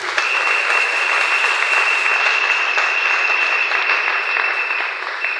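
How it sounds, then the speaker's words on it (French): A church congregation at a Sunday service bursts into loud, sustained applause for Jesus, dense clapping filling the room evenly for several seconds with no speech over it. "On acclame pour Jésus."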